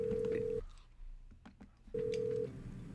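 An unanswered phone call rings twice through the earpiece: two steady electronic ring tones separated by a pause of about a second, each with a low background murmur.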